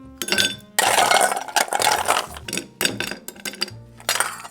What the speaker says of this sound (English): Grab your chilled Collins glass and add some ice to it.